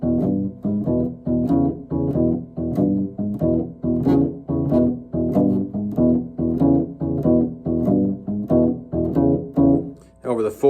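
An early Chicago-style electric blues guitar plays a steady boogie pattern over the 1 chord, a repeating shuffle riff of low chugging notes in even bar-length cycles, clean and close, with a brief voice at the end.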